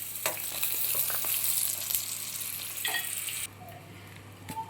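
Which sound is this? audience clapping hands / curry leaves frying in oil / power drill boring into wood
curry leaves frying in oil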